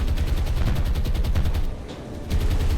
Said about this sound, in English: coming up against the anti-aircraft guns of a heavy cruiser